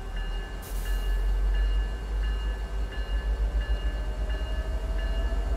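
A Tokyo commuter train in a train simulator game pulls away under full power, a low rumbling motor hum with a rhythmic clack that quickens as it gains speed, heard loud and close without speech.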